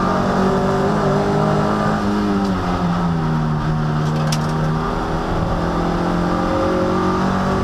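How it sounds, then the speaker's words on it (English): Onboard a Toyota MR2 race car at Silverstone International during a championship race, the engine drones loud and constant as it revs, with gear changes shifting the pitch up and down throughout. "We're on board here with Stuart Nichols then"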